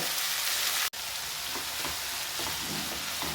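Chopped eggplant and onions sauté in a pan with a loud, steady frying hiss that cuts out for a split second, then resumes with faint stirring movements underneath.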